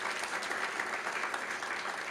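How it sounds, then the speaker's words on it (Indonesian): Congregation in a church service claps together, a brief, dense, steady burst of applause at even volume with no speech over it. "Bisa tepuk tangan untuk Tuhan."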